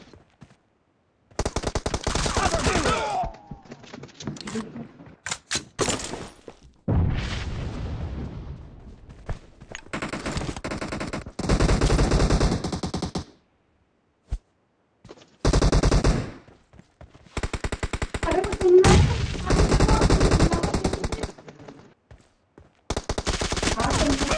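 PUBG Mobile gunfire rattles in loud bursts of rapid automatic shots separated by brief silences, with sharp single cracks and heavier blasts mixed in.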